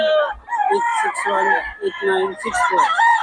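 A rooster crows several times at a festival expo poultry display, loud and close, with people chattering around it.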